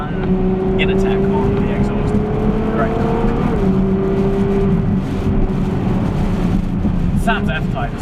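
A Ferrari F12 fitted with an Innertech exhaust drones loud and close, its engine note holding steady with a slight rise and dip in pitch throughout.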